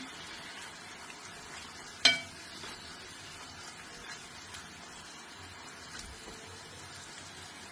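Chicken cooking with spices in a pan for chicken fried rice, a soft, steady sizzle and crackle throughout with one sharp clank of a utensil near the start, quiet and close.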